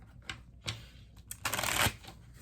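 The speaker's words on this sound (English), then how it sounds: "So I'm just shuffling the clarifiers now." Tarot clarifier cards being shuffled by hand, heard as a few soft riffling bursts and then one louder, sustained shuffle near the end, close and dry with no talking.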